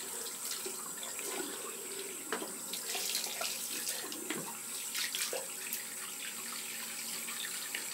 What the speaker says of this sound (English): I'm just rinsing out my soap so that can be drying off while I'm shaving.